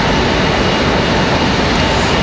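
A loud, steady jet engine roars at Raleigh-Durham airport, broadband and unbroken throughout, with no talk.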